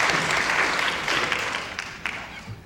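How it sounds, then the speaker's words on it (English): A crowd claps and cheers steadily for a few seconds, the applause loud at first and gradually fading. "Applause for our roadie."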